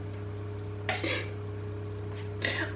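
Meringue dolloped onto a baking tray, heard as two brief wet scraping clatters of spoon against tray over a steady low electrical hum.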